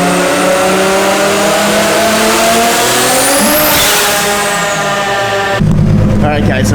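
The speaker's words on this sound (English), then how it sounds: "car is on the dyno right now" A Mitsubishi Lancer Evolution I on its stock turbo revs hard on a dyno, the loud, close engine note climbing steadily in pitch to a peak and then cutting off abruptly into a rougher idle.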